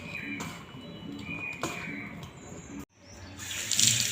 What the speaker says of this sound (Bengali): হাতটা ধুয়ে নিলাম